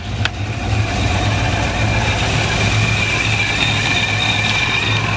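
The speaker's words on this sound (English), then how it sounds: "Oop, I hear an exhaust leak." Stock-bottom 5.3 V8 in a D1 ProCharger-supercharged Chevrolet Silverado 4x4 idling with an exhaust leak, a loud, steady close-up rumble with a faint whine above it, holding evenly throughout with no talk.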